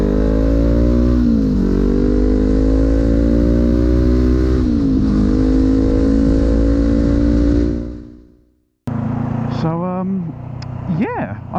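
Motorbike engine on Michelin Road Pilot 4 tyres, ridden to a garage on a punctured tyre, revving and droning loudly with rising gear pulls before cutting out, then a person speaking over lower engine noise.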